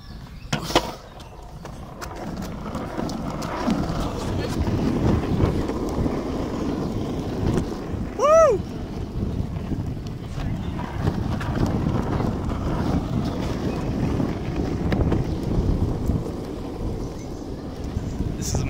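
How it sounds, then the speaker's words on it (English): A longboard rolls outdoors in London, its wheels giving a steady low rumble mixed with wind buffeting the microphone, plus a brief higher whine midway, lasting nearly twenty seconds. "this is the longboard. And I'm now gonna ride it."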